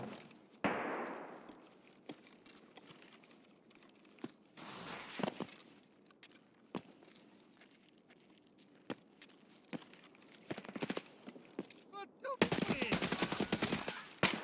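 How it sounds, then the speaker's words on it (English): Bursts of gunfire in a video game, sharp cracks and rapid volleys ringing out intermittently, ending in a dense loud stretch of shooting, with brief voice sounds between. "Who's shooting?"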